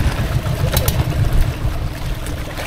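A boat engine rumbles steadily at close range, a low continuous drone with splashing water noise over it and no voices.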